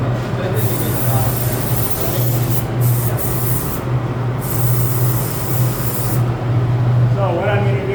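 A paint spray gun hisses continuously under a low hum, with people talking over it throughout.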